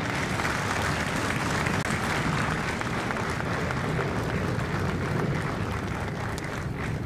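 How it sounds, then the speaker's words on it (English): Crowd at a Marine recruit graduation ceremony at MCRD San Diego applauds recruiters and combat instructors, a loud, continuous wall of clapping from many hands that holds evenly for several seconds. "Ladies and gentlemen, a round of applause for our recruiters and our combat instructors."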